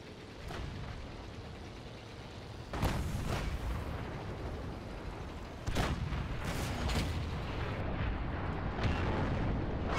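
Tank guns fire in the video game World of Tanks, with several heavy booming cannon shots spaced seconds apart over a constant rumbling battle background.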